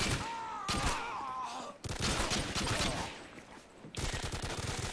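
Video game gunfire crackles in several bursts of shots, loud and dense, broken by brief lulls near two and four seconds.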